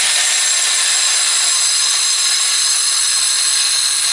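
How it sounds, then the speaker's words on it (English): An angle grinder cuts through a paver brick being trimmed to fit the edge of a patio, giving a loud, steady, high-pitched grinding roar that holds unbroken for the whole stretch with no talking. "He's going to put the grinder on it."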